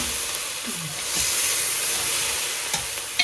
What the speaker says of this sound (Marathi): इनको भी अच्छे से भूनना है।